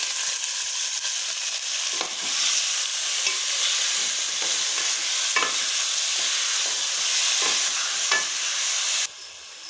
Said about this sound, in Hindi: अब इसमें हम चिकन को ऐड करेंगे। साथ में हम प्याज को भी ऐड कर लेंगे।